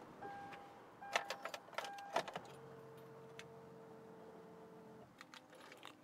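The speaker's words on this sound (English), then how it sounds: "the seat moves back, steering wheel pulls up and out of the way" Motors whir as the power seat and steering wheel of a 2010 Hyundai Genesis 3.8 sedan adjust automatically, after a few clicks and chimes, with a quiet, steady mechanical hum inside the car.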